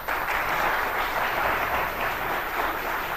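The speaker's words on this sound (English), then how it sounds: "Let's give them another round of applause." An audience at a fundraiser hypnotism show claps for the volunteers on stage, a dense, even roar of applause holding steady and fairly loud throughout.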